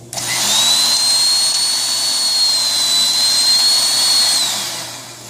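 A Ryobi 13.5-amp electric cultivator-tiller runs close by with a loud, steady high-pitched motor whine that spins up, holds evenly for several seconds, then slightly winds down.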